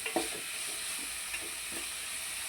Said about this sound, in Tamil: இந்த போட்டுட்டு நீங்கள் வதக்க ஆரம்பிச்சிங்கன்னா இந்த தக்காளி சீக்கிரம் வதங்கிடுங்க